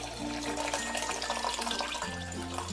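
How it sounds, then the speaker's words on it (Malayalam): Cold water pours steadily into a drink mix with mint, a continuous close, even splashing stream lasting the whole moment, alone without any talk. "ഞാനിവിടെ നല്ല തണുത്ത വെള്ളമാണ് ഇതിലേക്ക് ഒഴിച്ചിരിക്കുന്നത്"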